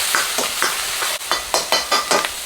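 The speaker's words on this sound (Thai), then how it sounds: "ผัดให้พริกกระเทียมของเราเนี่ยหอมนะครับ" Chili and garlic stir-fry in lard in a hot pan, a dense close sizzle broken by a regular run of scraping strokes from the spatula, about two per second, with no voices.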